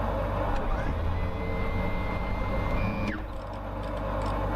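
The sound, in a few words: aircraft flaps moving in X-Plane flight simulator video game, Cessna CT210N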